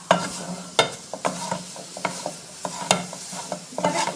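Cabbage for low-carb cabbage fufu cooking on the fire, stirred with sharp repeated scrapes and knocks against the pot over a soft sizzle, close up with no talking.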